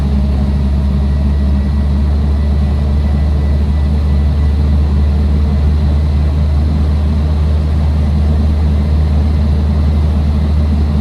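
A 1962 Land Rover Series IIa 88-inch soft top with a 2.25-litre petrol engine idles steadily and close by, a constant low rumble with no break and no voices.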